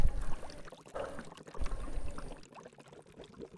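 Water pours from a can in a faint, uneven splashing stream that tapers off toward the end, with no voices.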